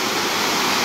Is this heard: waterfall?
yes